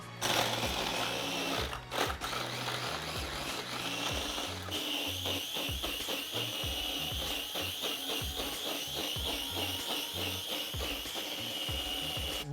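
Blender running continuously, pureeing two peaches with lemon juice, simple syrup and ice for a cocktail; a steady loud whirring motor with crunching ice at the start, no talking.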